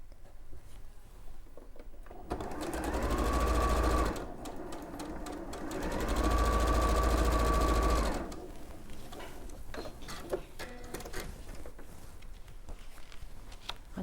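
A sewing machine runs in two steady bursts of stitching, each a few seconds long with a pause between, amid quiet room noise.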